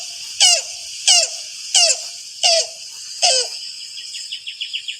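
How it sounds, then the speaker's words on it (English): A yellow-billed cuckoo gives five spaced, hollow, squeaky calls, then breaks into a quicker run of fainter notes at the end. "So this is the yellow-billed cuckoo, and this is what they sound like."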